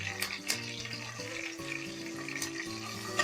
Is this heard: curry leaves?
yes